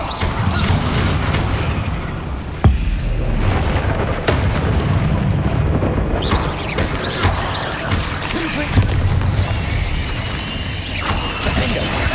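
Bombarda explosion spells and other combat magic in Hogwarts Legacy, a series of loud booming blasts and sharp cracking impacts over a dense rumbling battle backdrop, with several distinct hits spread across the stretch.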